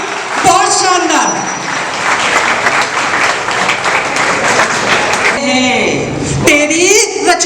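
Applause from the audience at a Hindi poetry gathering (kavi sammelan), steady clapping from the crowd between bursts of someone speaking, loud and close.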